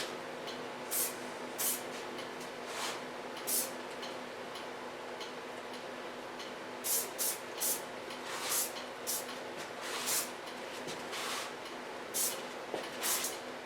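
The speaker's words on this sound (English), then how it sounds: "To fixate it for a moment, I use a brush out hairspray of Lanza." Lanza brush-out hairspray misted onto a short, curly red pixie cut in a salon, heard as a series of brief hissing sprays, some in quick pairs or runs, fairly close against a quiet background hum with no talking.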